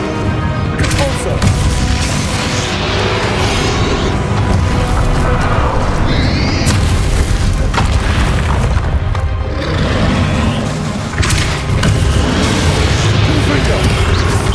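Repeated Repulso spell blasts in the video game Hogwarts Legacy, with loud, dense booms and crashing bursts rolling almost continuously, under intermittent talking voices.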